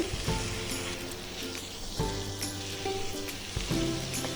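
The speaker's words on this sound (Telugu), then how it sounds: "మూత పెట్టకుండా నేను ఇంకొక 5 నిమిషాలు ఫ్రై చేశాను ఈ ఆయిల్లో" Chicken fries uncovered in oil for a dry roast chicken fry, giving a continuous soft sizzle with occasional louder crackles and spatters every second or so. The sound is moderately quiet and nobody speaks over it.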